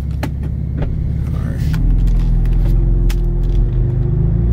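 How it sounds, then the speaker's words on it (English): A car engine turns over and settles into a low, steady idle rumble, preceded by clicks and shuffling inside the vehicle. "He about to hear this car turn on."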